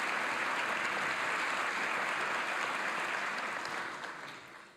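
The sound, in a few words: audience applause at an investiture ceremony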